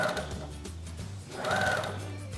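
A sewing machine stitches a seam along a cotton child's dress sleeve, its quiet motor whirring in short bursts that slow and resume.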